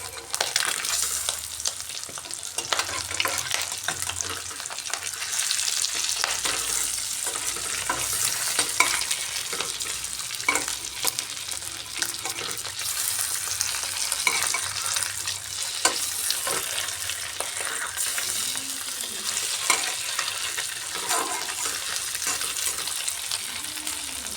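Eggs frying in a pan, cooked South Indian style, giving a continuous bright sizzle with occasional stirring and scraping sounds, steady and close with no voices.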